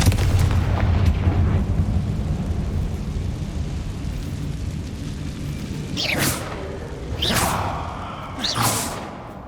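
Fire-spell explosions in the video game Hogwarts Legacy: a heavy rumbling roar fills the opening seconds, then three sharp whooshing blasts burst out at steady intervals near the end.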